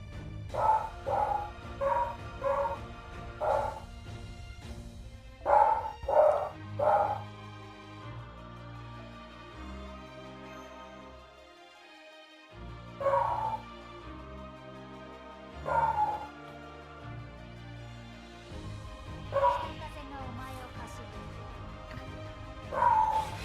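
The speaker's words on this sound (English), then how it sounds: "She's just barking for no reason." A dog barks in repeated bursts of several yips and bow-wows, loud and close, with short pauses between groups over steady background music.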